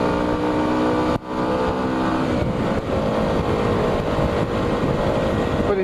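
A motorbike engine labours steadily up a steep hill, a loud close droning roar that holds its pitch with brief dips, likely from gear changes, and no talking.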